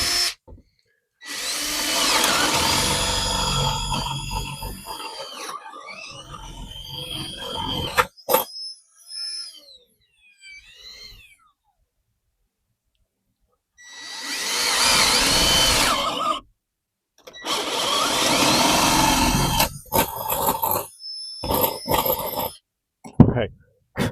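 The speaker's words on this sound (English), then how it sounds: "We're going to just drill 2 holes here." A power drill whines loudly in two long bursts, drilling two holes with a smaller bit in a solar power shed, with scattered clatter and brief rustling in the quieter gap between them.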